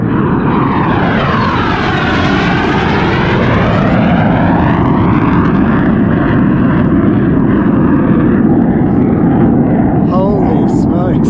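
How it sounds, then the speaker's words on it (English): An aircraft roars overhead at sea near a fishing boat, a loud sweeping engine rush that rises, peaks and fades as it passes, under steady wind and engine noise. "How's that jet fighter?"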